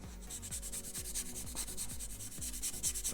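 Rhythmic back-and-forth rubbing of a 1500-grit Tamiya sanding sponge across the plastic body of a Revell 1970 Pontiac Firebird model kit, close and steady strokes with no talk.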